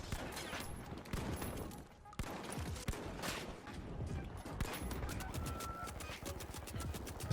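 Turret in the shooter game The Finals firing at the player, with dense rapid gunfire bursts and impacts rattling continuously over other game noise, fairly loud throughout.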